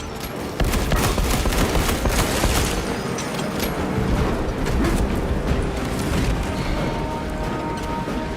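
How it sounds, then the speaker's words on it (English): A sustained Tyranid bombardment in Warhammer 40,000: Space Marine 2 rumbles on without pause, with dense bursts of gunfire, booms and mechanical clatter forming a loud, chaotic battlefield roar. "Tyranids bombarding the chains!"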